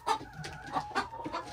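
Hens cluck in a backyard chicken coop, short squawky calls and soft clucks coming in repeated bursts close to the microphone with no talking.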